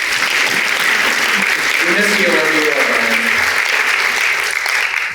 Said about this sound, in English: Really just round of applause for that.